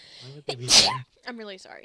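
A single sharp sneeze bursts out in the middle of casual speech during a Minecraft gaming session, loud and close, with talking before and after it.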